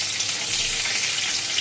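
Green chillies fry with bay leaves in hot oil, a continuous bright hiss that holds at an even level for a short stretch with no voices.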